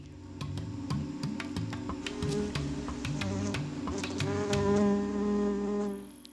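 A digger wasp buzzes close by in a continuous, wavering drone, with faint repeated ticks over a low steady hum and no talking.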